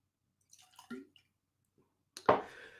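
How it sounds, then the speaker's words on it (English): Springbank 10 single malt whisky goes into a glass: a few soft drips and trickles in a quiet room, then a louder, brief splash of liquid near the end. "And what I'm going to pour myself is a little Springbank 10."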